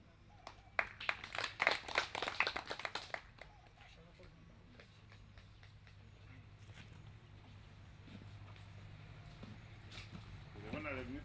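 An outdoor village gathering in Ogur, Lira District, during a state minister's visit claps for a 97-year-old woman: a burst of scattered, moderately close hand claps lasting a few seconds, then thinning into murmuring and ambient noise.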